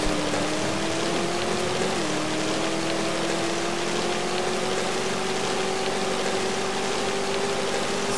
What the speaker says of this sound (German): Regen.